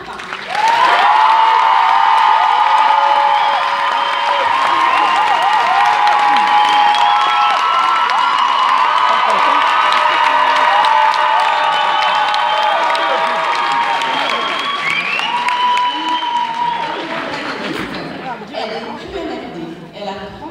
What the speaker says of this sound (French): Un tonnerre d'applaudissements pour Christophe Vautrin.